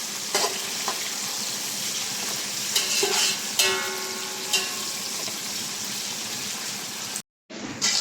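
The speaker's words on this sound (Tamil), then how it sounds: "வெங்காயம் வந்து பொன்னிறமாக ஆகணுங்க, ரொம்ப வதகலாம் தேவையில்லை, சும்மா லைட்டாக வதங்கினா போதும்" Onions sautéing in a pan for Tamil-style puri masala (poori kizhangu), a steady close sizzle with occasional stirring scrapes and clinks, no speech.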